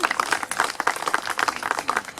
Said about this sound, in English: We should clap or something right there.